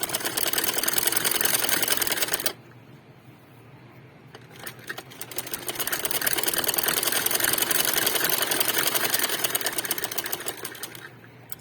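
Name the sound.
sewing machine doing double stitching on fabric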